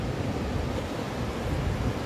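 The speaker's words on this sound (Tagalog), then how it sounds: "Tingnan nyo guys ang lalaki ng alon." Big waves break at Bagasbas Beach in Camarines Norte, a continuous, fairly distant roar of surf mixed with wind buffeting the microphone, steady and moderately quiet with no voices.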